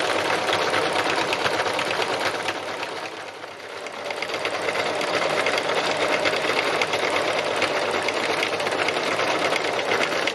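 A domestic sewing machine runs steadily while free-motion stitching on fabric, its fast needle chatter continuous and close, easing briefly about a third of the way through before resuming at full speed.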